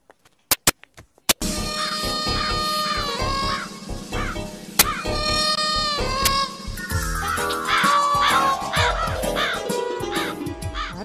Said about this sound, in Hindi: कौवा काव काव कर रहा है